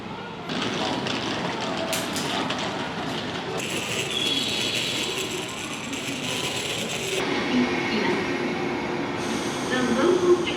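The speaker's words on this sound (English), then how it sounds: "The local train." A local train runs along a line in Japan, heard as a steady, close rumbling roar with broad hiss that shifts in character a few times as the ride continues.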